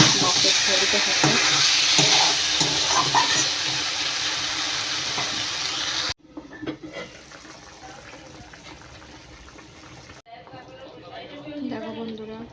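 Water goes into a pan of sizzling fish curry with potatoes, the loud hiss and bubbling frying giving way abruptly to a calmer simmer with stirring, while a voice talks throughout.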